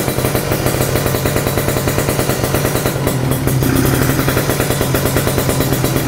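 A two-stroke Kawasaki Ninja motorcycle, left unstarted for two months, revs loudly through an NXL exhaust with a rapid, rattling popping beat that swells briefly midway before settling back into its choppy idle.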